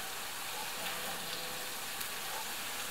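Faint, steady sizzle of oil frying in a pan while cooking a cottage cheese dish, a soft continuous crackle with a few tiny pops and no talking.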